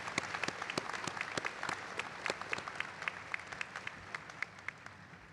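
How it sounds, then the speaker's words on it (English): An audience at a 2023 nursing and optometry commencement applauds the graduating class, a dense, steady round of many hands clapping at a moderate distance, no voices over it. "Let's give them another huge round of applause."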